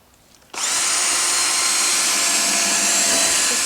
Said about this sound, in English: Just drilled the holes,